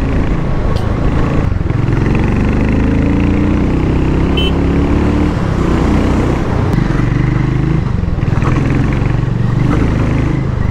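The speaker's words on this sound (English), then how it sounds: "He's just talking about the exhaust of a single cylinder, but the truth is, this sounds so sweet." A Harley-Davidson X440 single-cylinder motorcycle rumbles steadily through its exhaust while being ridden in Goa, a loud, continuous thumping drone heard close up with wind noise and no talking.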